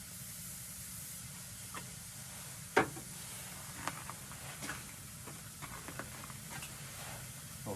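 Fajita vegetables for pheasant fajitas fry in an oiled pan, a soft steady hiss and sizzle with a few sharp ticks and pops scattered throughout.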